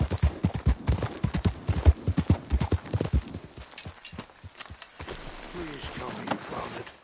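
Horse hooves clip-clop at a steady walking rhythm in Red Dead Redemption 2, close and fairly loud, with a brief spoken voice and quieter ambient game sound in the later seconds.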